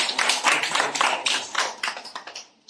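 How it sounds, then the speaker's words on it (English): A crowd at a Flutter developer event claps in a burst of dense, overlapping applause that thins out toward the end, close and fairly loud. "So, please we should add another round of applause."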